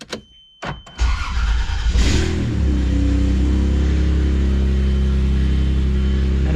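An old Toyota Land Cruiser 80 Series (Lexus LX450) engine cranks with a few clicks and whirs, catches, and settles into a loud, rough, steady idle close by.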